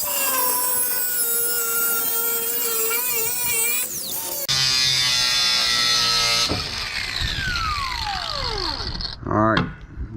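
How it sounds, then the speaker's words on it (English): A battery angle grinder cuts into the steel shell of an air conditioner compressor, a loud whining screech that shifts pitch and bogs down as the disc bites, then winds down and sputters at the end. "I'll change the battery in the grinder as well"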